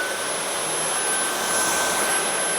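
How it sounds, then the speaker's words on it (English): A Dyson V8 cordless stick vacuum cleaner runs steadily over scattered debris on a floor, a loud continuous whining suction roar with no talking. "Now with the Dyson V8, after going over it directly, it missed a few."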